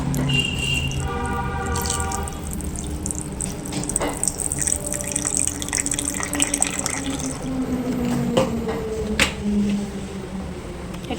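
Water trickles and drips into a bowl of tamarind soaking for fuchka, a light splashing pour close by with scattered kitchen clinks and no talk.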